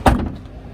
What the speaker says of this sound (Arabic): هنا الباب اللور